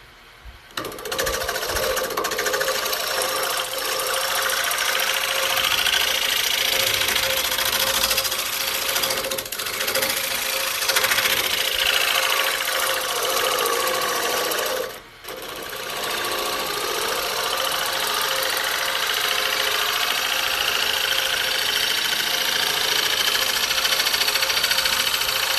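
A wooden bowl spinning on a lathe while a carbide tool cuts into it, giving a steady, loud, continuous grinding whir that holds for the whole stretch, broken by one brief dip partway through.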